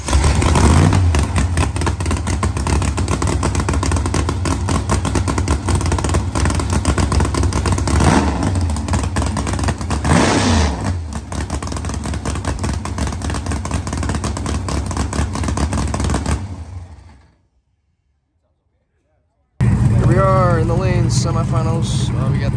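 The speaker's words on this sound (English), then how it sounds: "they're going to fire up the car here" A small-tire drag racing car's engine fires up and revs with a loud, rough, continuous roar and several sharp rev surges, then cuts to silence before voices return at the end.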